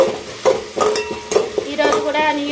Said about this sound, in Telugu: ఉప్పు సిమ్లో పెట్టుకొని బాగా వేయించుకోవాలి అడుగు మాడకుండా చూసుకోవాలి